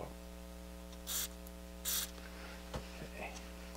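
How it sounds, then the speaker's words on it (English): Two short hissing bursts of contact cleaner sprayed through a straw into a switch inside a Denon DCD-695 CD player, close up over a steady electrical hum, followed by a few faint clicks. "I'm just going to spray some in."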